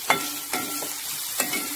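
Chopped onions frying in oil for a Kerala-style mutton curry, giving a steady sizzling hiss broken by a few louder scraping stirs of the pan, close and without talk.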